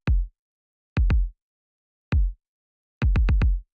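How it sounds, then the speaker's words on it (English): A deep, punchy kick drum sample with a heavy low end, filtered of its high frequencies for an 80s-style pop track, hits alone in a sparse pattern: single hits, a quick double, then a fast run of four. "And then I have this second kick here"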